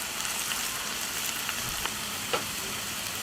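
Chicken and mushrooms sizzle steadily in a frying pan as they are stirred, a close, continuous hiss and crackle with soft scraping strokes, no talking.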